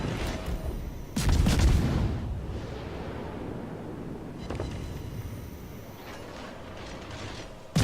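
Heavy battleship gun salvos from the Kaiser in World of Warships, a loud deep boom followed by rumbling decay, then a few fainter distant booms over a low ambient drone.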